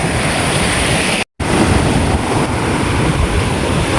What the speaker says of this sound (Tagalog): Ayan po yung dagat. Medyo malakas ng konti naman po.